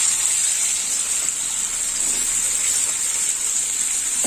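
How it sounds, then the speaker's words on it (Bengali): Chopped onion hitting hot oil with tempered spices in a pan for a prawn and pointed gourd dish, producing a loud, steady hissing sizzle that runs unbroken throughout, with no voices. "এবার দিয়ে দেবো কুচনো পেঁয়াজ, দিয়ে দিলাম কুচনো পেঁয়াজ"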